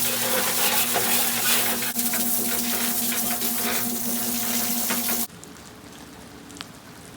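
A Harbor Freight cement mixer churns concrete made from nine bags of mix, giving a dense, wet sloshing roar at close range that stops abruptly near the end, leaving quiet room tone.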